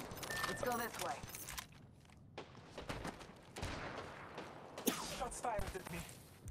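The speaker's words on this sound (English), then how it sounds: "Shots fired at me." Gunfire aimed at the player in a shooter video game, with scattered rapid shots and impacts amid busy game effects and a speaking voice.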